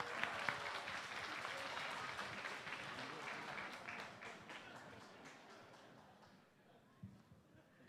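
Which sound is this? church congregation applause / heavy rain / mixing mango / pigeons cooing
church congregation applause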